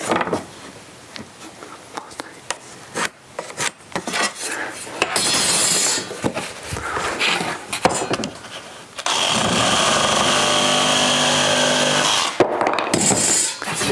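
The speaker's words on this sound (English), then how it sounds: "So I'm going to take just a jigsaw" A jigsaw cutting a wooden pediment template, with bursts of loud buzzing and rattling broken by short pauses and clunks, then a long steady cut near the end.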